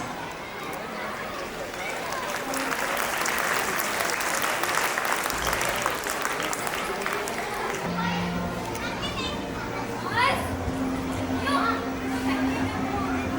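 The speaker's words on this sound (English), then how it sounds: "Please give a big round of applause." Applause and crowd noise fill a school annual function hall, with children's voices and movement mixed into the clapping; the din thins after the midpoint, leaving scattered chatter and a brief steady tone.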